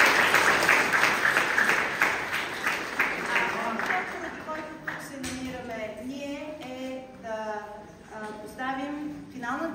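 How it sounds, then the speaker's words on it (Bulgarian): An audience at a school event applauds loudly and briefly, the clapping fading over a few seconds as a voice begins talking over it. "Вашите аплодисменти за нея."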